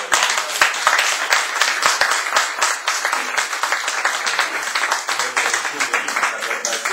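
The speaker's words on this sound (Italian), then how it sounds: "Innanzitutto facciamo un applauso." An audience breaks into a sustained round of applause, with dense, fairly close claps running steadily for several seconds in an indoor talk setting and no voices over it.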